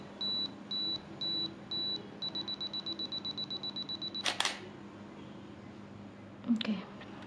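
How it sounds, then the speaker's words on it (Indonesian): A camera set to continuous shooting after a self-timer gives a series of high beeps that quicken into a rapid run, then fires a brief burst of shutter clicks, followed by another short clicking burst moments later. "Nanti dia akan ngejepret."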